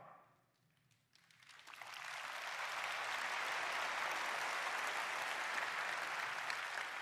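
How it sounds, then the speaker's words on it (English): Brief quiet, then steady applause swells up and continues, a large keynote audience at Nvidia GTC 2024 clapping evenly and fairly loud with no voices over it. "Only this conference do they clap for RAS."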